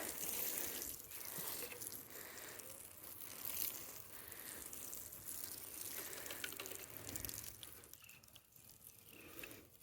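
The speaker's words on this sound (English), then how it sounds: "we're going to water in our seeds here" Steady splashing and pattering of water poured onto a garden bed sown with zucchini and carrot seeds, continuous and fairly close, with faint outdoor background noise and no talking.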